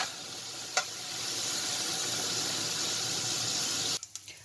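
Minced meat balls fry in a Moroccan tagine with a steady, close crackling sizzle; a brief clink sounds early on, and the sizzle breaks off near the end into a few scattered knocks.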